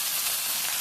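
Chopped raw onions sizzle as they fry in a pan while being stirred, a brief, close, steady crackling hiss with no voices.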